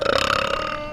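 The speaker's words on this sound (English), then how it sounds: "I guess I'll give you one last burp to go." One loud, close burp with a rattling, croaky texture that trails off after about a second.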